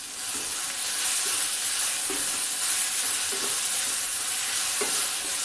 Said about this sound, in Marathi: आता मी पुढचे मसाले टाकते